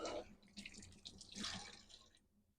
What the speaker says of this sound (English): That water is probably too loud.